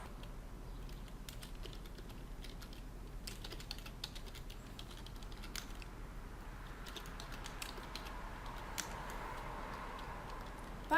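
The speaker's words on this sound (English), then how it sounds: "And next I'll type the address." Typing an address into Word on a computer keyboard, a steady run of quick soft key taps close up in a quiet room, no talking.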